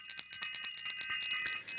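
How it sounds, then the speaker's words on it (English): A bright metallic bell rings in a quick series of repeated strikes, its clear ringing tones overlapping and sustaining throughout, loud and close with no talk. "I want to ring the bell"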